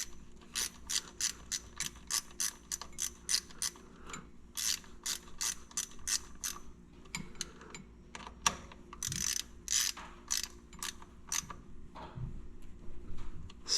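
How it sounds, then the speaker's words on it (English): A hand ratchet with a 10mm socket snugs bolts into aluminum on a Honda Talon side-by-side, giving close, crisp bursts of rapid clicking in short repeated strokes with brief pauses between them. "Get your socket, 10mm socket and ratchet."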